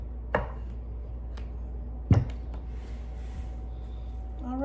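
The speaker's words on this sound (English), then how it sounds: "that's what we were doing today, cutting soap" Knife cutting through a slab of lime and coconut goat's milk soap, two sharp chopping thuds a couple of seconds apart with a few faint clicks in a quiet room.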